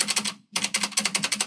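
Rapid typing on an AJazz AK50 budget 104-key mechanical keyboard with PBT keycaps, close and clear, a steady clatter of keystrokes broken by one brief pause.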